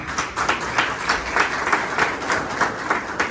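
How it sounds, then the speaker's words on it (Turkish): An audience at an iftar gathering applauds, a close, steady burst of many hands clapping with a slightly pulsing rhythm throughout. "Bir de onu alkışlayalım."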